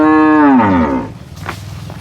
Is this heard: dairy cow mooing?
yes